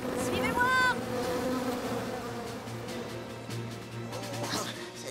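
Cartoon bees buzz in an animated children's show, a steady insect drone with a brief tonal voice-like chirp near the start and some faint talk underneath.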